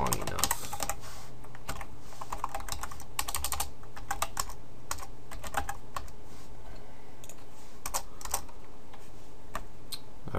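A computer keyboard clatters as someone types Ruby on Rails test code in uneven bursts of close key clicks, with brief pauses between bursts, over about ten seconds of faint room noise.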